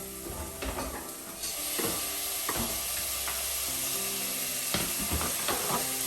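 Tomatoes added to ginger and garlic sauté in a hot pan with a steady, dense sizzle and hiss, broken by a few soft clanks of stirring, close up and with no talking.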